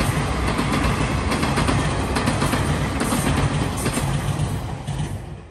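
A train passing by a signal station in a rural riverbed area, a loud, steady rumble with rhythmic clattering of wheels, fading slightly toward the end.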